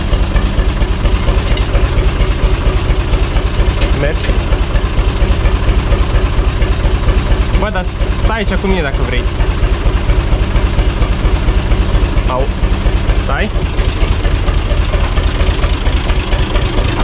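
A UTB U445 DT 4x4 tractor's diesel engine idles steadily while warming up, a loud, constant low rumble running throughout, with a couple of people chatting casually over it.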